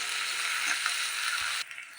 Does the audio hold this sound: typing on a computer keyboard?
no